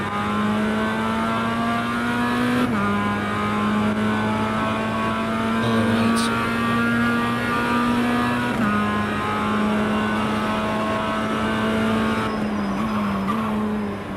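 Mazda MX-5 race car engines in the iRacing sim, a steady droning whine holding near-constant pitch with small shifts and brief dips as gears change, a loud continuous in-car engine tone throughout.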